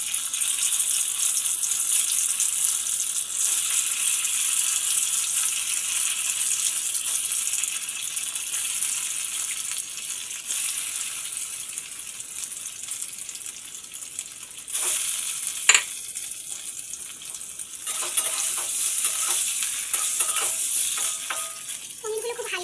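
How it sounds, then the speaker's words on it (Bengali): Paneer fries in hot oil in a wok with a loud, steady, close sizzle that runs throughout, with a brief rattle partway through and a few louder bursts near the end. "তেলটাও বেশ গরম হয়ে গেছে, এবার আস্তে আস্তে পনিরগুলো ছেড়ে দেবো।"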